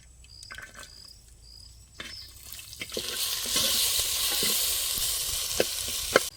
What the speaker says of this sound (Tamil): இப்போ நம்ம சின்ன வெங்காயம் போட போகிறோம்.